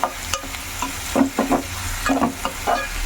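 Onions frying with salt and a half spoon of turmeric in a pan, stirred with a spoon that scrapes in short, irregular strokes over a steady sizzle, close and clear.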